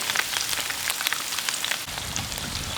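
Steady crackling sizzle of sprats frying in hot oil, a dense spattering hiss with scattered pops, close and continuous.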